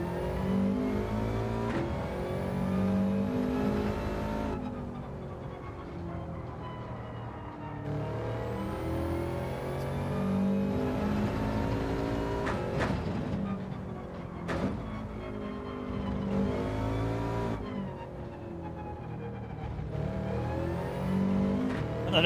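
A 4WD race car in Gran Turismo 7 laps a track with worn front tyres, its engine revving hard through repeated upshifts and rising pitch sweeps, with braking dips and a hint of tyre squeal, loud and continuous.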